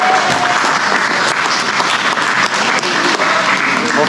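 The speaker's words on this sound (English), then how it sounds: "let's give a round of applause for Uncle Chuck" A crowd at a salmon fishing challenge event gives a loud, close round of steady applause for a helper, with the clapping continuous throughout.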